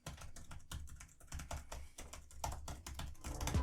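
Rapid keystrokes clatter on a full-size MSI GF75 Thin gaming laptop keyboard, a close, fairly quiet run of uneven taps with brief pauses and no voices.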